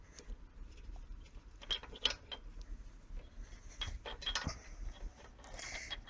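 Tools work loose the center bolt on the carburetor float bowl of an Ariens snowblower's OHV LCT engine, with faint clicks, metallic taps and small scraping sounds close up and no talk.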